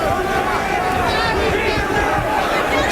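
A loud boxing crowd of about 8,000 to 9,000 at the Omni in Atlanta roars continuously, a dense, steady wall of shouting and cheering with voices blended throughout.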